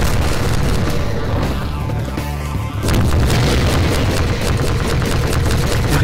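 Loud, continuous booming from a bazooka fired in a Half-Life mod, Transmissions: Element 120, with dense blasts and rapid shots filling the whole stretch and a brief lull before a fresh heavy burst.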